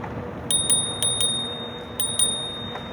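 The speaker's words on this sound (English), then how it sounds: "So we'll use the bell again here." A bicycle bell on a RadRover 5 e-bike rings in two quick pairs of bright dings on a forest preserve trail, over a steady rumble of riding and wind.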